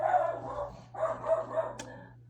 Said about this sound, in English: my dog might be barking at somebody getting a package